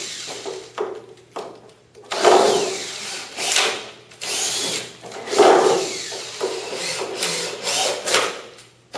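A power drill drives screws into a pine waler while a stud wall is being built, with repeated whirring bursts of the motor and the grinding, creaking bite of screws into wood, loud and close.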